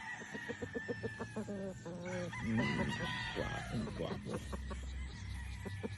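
Gamefowl broodstock roosters crow and cluck on a farm, several calls overlapping at close to moderate distance, with a longer crow in the middle and low background voices.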